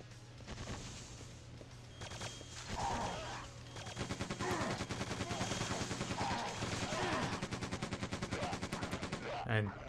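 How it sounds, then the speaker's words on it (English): Rapid machine gun bursts from Quake 2 Remastered rattle almost continuously, a dense fast rhythm of close, loud shots building after the first few seconds, with brief pauses and a steady low hum underneath. "Switch the machine gun."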